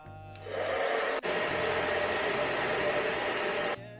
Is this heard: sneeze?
no